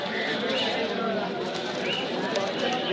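Pigeons at a busy pigeon market in Mirpur, Bangladesh, with faint bird sounds buried under dense, continuous crowd chatter and people talking nearby.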